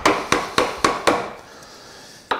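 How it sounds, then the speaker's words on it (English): Chisel cutting wood while a wooden spoon is carved by hand, five crisp evenly spaced strikes in quick succession, a short pause, then one more sharp knock close up. "it allows you to roll the chisel and exit the cut"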